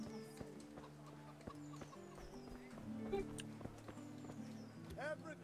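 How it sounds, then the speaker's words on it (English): Chickens cluck in a village in the video game Kingdom Come Deliverance, short scattered calls among hoof clip-clops and game ambience, with a voice speaking over part of it. "Chicken!"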